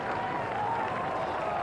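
A cricket crowd at a Test match in Wellington, New Zealand versus Pakistan in 1994, applauds and cheers a boundary four: a sustained, distant wash of clapping and crowd noise.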